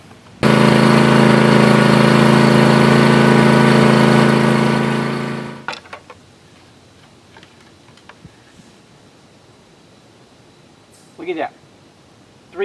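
A John Deere S240 lawn mower engine starts abruptly and runs loud and steady at close range for about five seconds, then cuts out, leaving faint clicks and small knocks in a quiet space.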